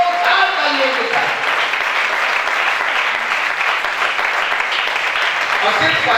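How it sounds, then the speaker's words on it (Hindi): A large gathering of devotees at a religious discourse bursts into loud, sustained applause, a dense continuous roar of many hands clapping throughout, with a voice briefly audible near the start. "एक बार संपूर्ण परिवार की संपूर्ण भक्तों की जोरदार तालियों के साथ"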